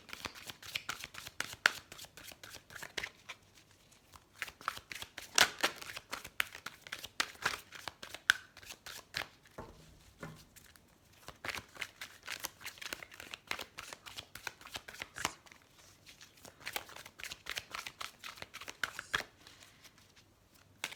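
Tarot cards are shuffled by hand in repeated bursts of rapid riffling and slapping, close and crisp, with short pauses between rounds.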